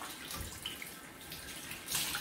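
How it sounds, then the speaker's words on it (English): Soaked paper towels squeezed by hand, letting water stream and splash out in a steady, wet rush that swells near the end, close and fairly quiet with no talk. "If you're in the mood, just take it out and squeeze it."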